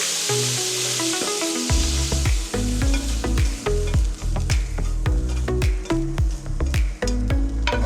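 Homegrown bean sprouts stir-fried in a pan hiss and sizzle loudly and steadily throughout, with repeated clanks and scrapes of stirring, up close and with no talk.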